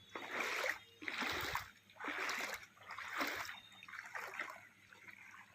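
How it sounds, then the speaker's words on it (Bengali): Flood water covers a low road beside a Shiva temple in Silchar, Assam, with soft sloshing and splashing in slow repeated surges, faint and close. "নিচু জায়গায় জল উঠেছে রাস্তার।"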